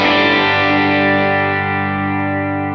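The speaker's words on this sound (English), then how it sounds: "I'm going to play you just a little bit of clean tone just so you can hear it" Clean guitar tone through a Line 6 Helix with hall reverb and quarter-note delay on a basically clean amp, a single sustained ringing chord that decays slowly over about three seconds, loud and alone.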